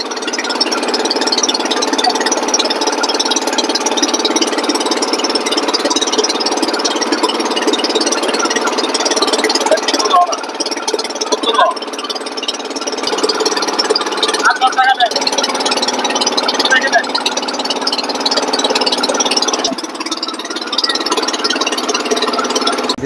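A boat engine drones steadily and loudly throughout a river crossing on a boat near a ferry ghat, with people talking over the continuous mid-range hum.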